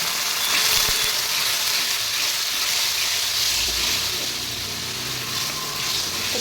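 Spice paste for a mutton curry, with green chillies, sizzles in a pan after water is added, a steady close hiss of frying and steam with faint stirring throughout.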